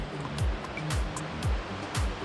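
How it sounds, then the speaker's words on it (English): Water rushing down below a viaduct in wooded country, a steady broadband roar with soft rhythmic surges, heard from above at some distance. "The water is just rushing down there."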